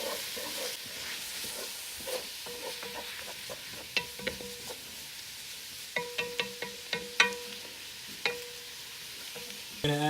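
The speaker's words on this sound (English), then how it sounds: "I want this to toast for a little bit in the fat, the olive oil" Vegetables sizzle and toast in olive oil in a pot, a steady soft frying hiss broken by occasional stirring clicks and light scrapes, fairly faint and close, with no talking.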